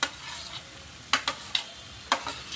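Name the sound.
frying chopped onions for tadka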